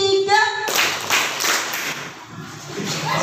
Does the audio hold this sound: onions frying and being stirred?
no